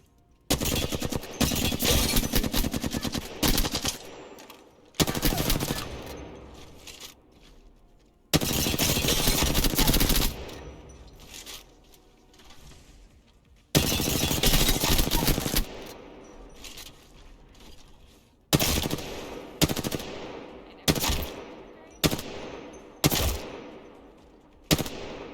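Automatic weapon fire in the Apex Legends firing range, arriving in sharp, loud bursts of rapid shots. Short pauses separate the volleys, and single shots with reloads come toward the end. No one speaks.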